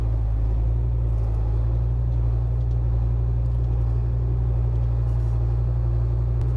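A GAZ-39371 Vodnik armored car with torsion-bar suspension drives off-road on rough mountain tracks, its engine giving a steady, loud, low rumble that runs unbroken throughout with no talk.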